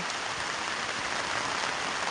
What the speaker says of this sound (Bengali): আজকের দিনে আমাদের এখানে বৃষ্টি হচ্ছে